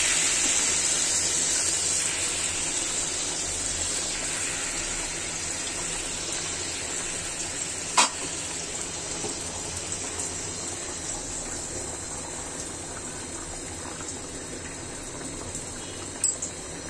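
Broth pours into a cooking pot in a steady, continuous gush of liquid, close and moderately loud, fading slightly over time, with a couple of brief clinks and no voices.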